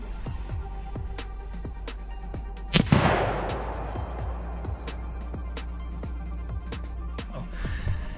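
A single sharp, loud rifle shot from a 300 PRC Christensen Arms rifle cracks out mid-clip and decays, over a steady background hum with faint ticking.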